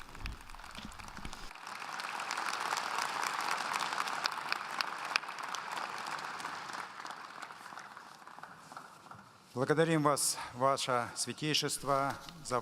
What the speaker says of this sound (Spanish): Inmediatamente el aplauso para el Papa Francisco.